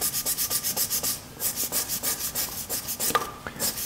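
A brass brush scrubs back and forth over a spinning wooden surface on a lathe, giving a steady rhythmic rasping of quick repeated strokes, close and fairly loud, with a couple of brief clicks near the end.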